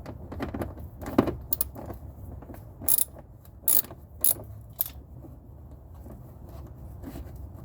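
Ratchet wrench with a 10mm socket fastening mud guard bolts on a 2020 Camry SE AWD, giving a few short, sharp metallic clicks and clacks in quick clusters over low background rumble, no talking.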